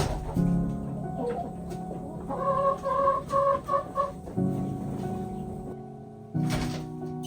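A Marans hen clucks near a nest box, breaking into a run of rising, rhythmic cackling calls midway before settling back to quieter low clucks.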